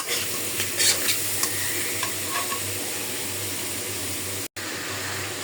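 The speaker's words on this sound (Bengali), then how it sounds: "একসাথে পেঁয়াজ রসুন আর শুটকি একটু ভেজে" Onion, garlic and dried fish (shutki) fry together in a pan with a constant, even sizzle, a few faint stirring knocks near the start and a brief dropout toward the end, with no talk.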